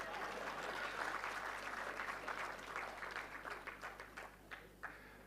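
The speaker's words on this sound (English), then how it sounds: "I was hoping for a round of applause." Audience at an International Customs Day panel applauds, a dense wash of clapping that holds steady and then breaks into scattered, fading individual claps.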